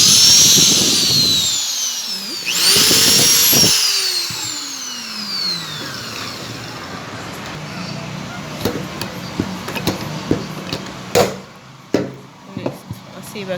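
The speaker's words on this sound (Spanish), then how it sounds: "Perforamos en las espigas y remachamos." A power drill bores into dowels in an aluminium door frame with a loud whining run whose pitch rises and falls, then stops and gives way to clicks and clatter, with talk around it.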